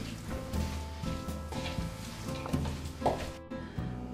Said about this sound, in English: mix with all the vegetables and chicken, and you have to have a little bit of elbow grease here